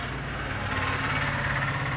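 Continuous low road traffic noise with an engine-like rumble, steady and moderately loud, no voices.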